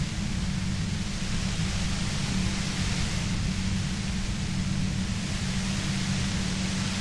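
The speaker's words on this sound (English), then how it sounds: "You hear through the white noise." Steady static-like white noise effect in the video game Disco Elysium, a dense unbroken hiss with a low rumble beneath, constant and loud with no gaps.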